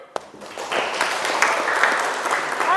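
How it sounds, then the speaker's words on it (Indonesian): A classroom of students bursts into applause after a single sharp knock, the clapping building quickly and then holding as a dense, moderately loud patter to the end. "terima kasih, tepuk tangan."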